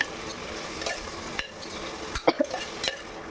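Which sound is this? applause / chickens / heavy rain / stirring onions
stirring onions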